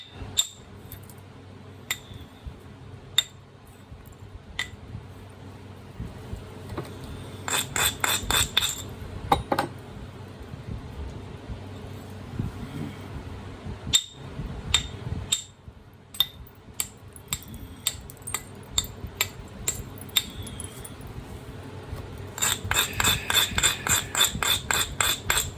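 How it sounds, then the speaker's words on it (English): Rock being chipped and ground down: sharp, irregular tapping strikes scattered throughout, with short clusters of rapid grinding chatter, all close-up over a low background hum, with no talking. "I'm gonna chip down, grind down like this."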